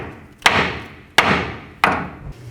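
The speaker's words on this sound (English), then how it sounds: "After a few taps with the hammer," Hammer striking a steel steering knuckle to free a ball joint on a 2007-14 Chevy Silverado front suspension: three sharp, loud metallic thumps spaced about evenly, each ringing briefly before the next.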